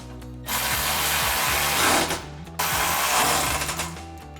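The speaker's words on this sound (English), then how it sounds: "we can grab our ratchet and 13mm socket and tighten these down" Ratchet with a 13mm socket tightening bolts on Tundra running board brackets, two close bursts of rapid clicking cranks with a short pause between them, no talking.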